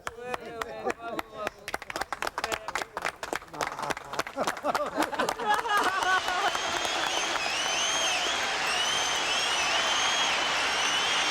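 A man claps rapidly and sharply, the rhythmic hand claps close and loud at first, then blending into swelling cheering concert crowd noise with whistles and shouts that dominate the latter half.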